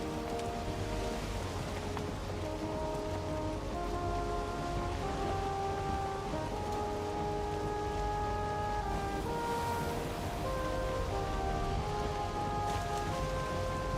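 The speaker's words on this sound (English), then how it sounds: "Oh shit, is it starting to rain?" Rain comes in over Valheim's outdoor world, a constant dense patter and wash laid over sustained low musical tones, steady and unbroken throughout without any voices.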